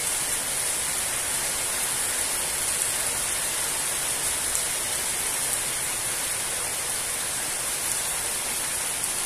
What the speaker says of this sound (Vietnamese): Ngoài trời đang mưa rất to.